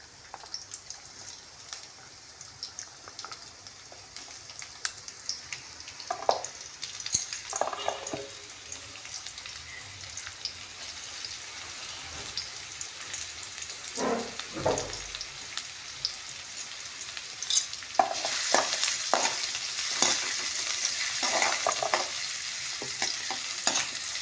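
Samosa filling sautéing in oil in a pan, a quiet steady sizzle with intermittent spoon scrapes and stirring clatter, the frying growing louder and brighter toward the end.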